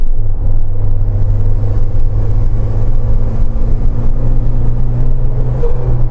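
A turbocharged Suzuki Jimny engine runs close by with a loud steady rumble and a whirring turbo note holding at one pitch throughout, with slight rises as it revs.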